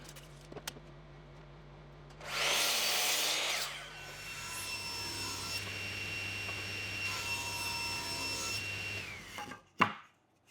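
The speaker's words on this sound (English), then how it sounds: "Next, I'll cut the pieces that will make up the blades of the paddle." A power saw cutting pieces of reclaimed wooden board for kayak paddle blades, with a short loud buzzing cut, then a long whining run of the saw, and a sharp clack near the end.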